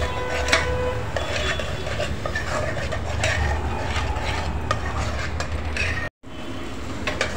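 Masala sautés in oil over a high flame for spicy chicken curry, a loud continuous sizzle with scraping and clatter of a spoon against the pan, briefly cut by a short gap near the end.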